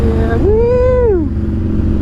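A Dyna motorcycle rides through a neighborhood, its engine giving a close, steady low rumble with one rising-then-falling rev tone in the middle.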